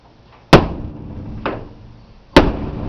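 Three sharp metallic hammer strikes on a punch and chisel against aluminum garage panels, close and loud, spaced about a second apart with short ringing decay.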